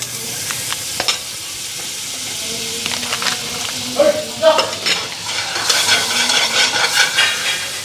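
Vegetables fry in hot melted butter in a wok, the sizzle swelling as they are stirred. Scraping and clinking of a utensil against the pan come through at close range, with a few soft knocks early on.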